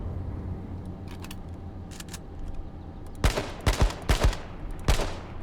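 Gunfire in the battle royale game H1Z1 King of the Kill: a cluster of sharp, loud shots arrives after a few seconds of quieter ambient game noise, cracking in quick bursts and then a final lone report.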